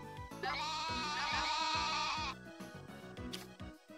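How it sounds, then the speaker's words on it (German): Goats bleat in the farming video game Story of Seasons: A Wonderful Life, a long, loud, quavering bleat running for about two seconds, followed by a shorter cry, over a rhythmic game music loop. "Jetzt blaken die mich immer schon an."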